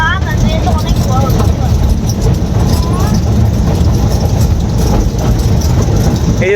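A long train rolls past near a railway crossing, a loud, steady rumble with rattling wheels that runs without pause while people talk over it.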